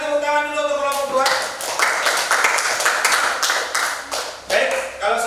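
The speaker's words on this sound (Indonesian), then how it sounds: "silakan tepuk tangan dulu untuk kelompok 2" In a classroom, students clap for a group after its presentation. A spoken voice comes first, then a burst of clapping from a small group follows, with a brief dip in the middle before a final flurry.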